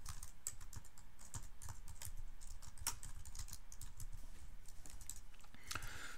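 Steady typing on a computer keyboard, a quick irregular patter of close, crisp key clicks continuing without pause, with an occasional louder keystroke.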